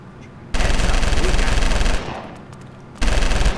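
Loud, close bursts of rapid automatic gunfire come from the LA Cops video game. One long burst is followed by a quieter pause and then a second burst.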